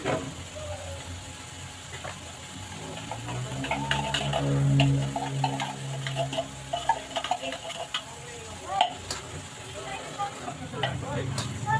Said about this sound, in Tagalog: Guys, ito yung ginigisa ko. Na yung corned beef.